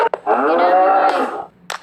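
A cow on fire gives a single loud, drawn-out moo lasting about a second, close by, followed by a brief thump in a game scene.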